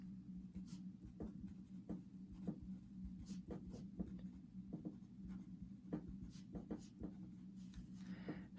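Pen scratching steadily across paper as equations are written out by hand, a quiet continuous scribble with short strokes and pauses, close and alone under a low room hum.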